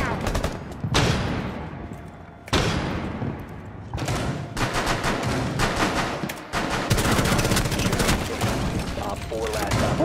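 Rapid hipfire gunfire in Rainbow Six Siege during a biohazard container mission: loud repeated bursts and sustained automatic volleys, with short pauses between strings of shots, while a voice talks over part of it.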